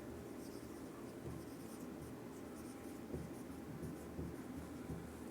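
Pen scratching steadily across paper, a soft continuous rustle with faint irregular strokes, close and quiet with no talking.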